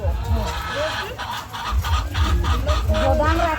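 Chickens at an egg farm cluck steadily in a loud, busy barn chorus, with low rumbling machinery or shuffling underneath and a few rising calls standing out near the end.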